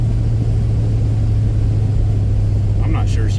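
A 1977-era Avanti car engine on its first drive gives a loud, steady low drone with a constant hum throughout, and a voice speaks briefly near the end.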